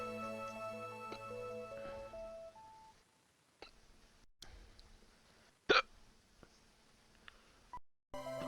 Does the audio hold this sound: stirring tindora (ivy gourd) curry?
no